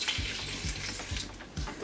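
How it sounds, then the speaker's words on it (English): Tap water runs steadily into a sink as celery is rinsed under it, a close, soft splashing with small irregular bursts of spatter. "I rinsed it under the sink so I could get all the grit and dirt off of it"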